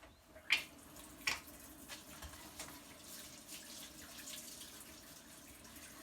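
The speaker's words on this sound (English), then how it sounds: "now I'm going to wash my hands" Hands being washed under a running kitchen tap at a cooking demonstration, a steady soft hiss of flowing water with a couple of sharper splashes near the start.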